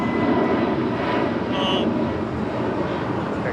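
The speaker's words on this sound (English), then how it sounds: "Airlines Flight 266 heading to Philadelphia in an A320 Neo" Airbus A320neo jet airliner at LAX, a loud, steady engine roar holding close and constant throughout, with a faint higher whine briefly rising over it.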